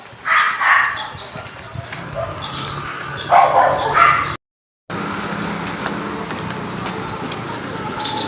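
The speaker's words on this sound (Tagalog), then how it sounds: "Sasalubungin ako ng mga aso ko." Dogs bark loudly in short bursts at a workplace as their owner arrives, several close yips and woofs in two clusters, with a sudden gap and quieter background sounds afterward.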